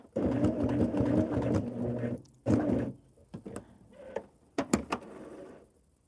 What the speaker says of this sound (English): just going to tack that down just a couple of stitches around the corner